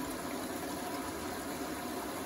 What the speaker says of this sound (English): So, final rinse, it should top up in a minute.